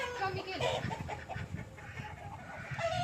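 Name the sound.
chickens clucking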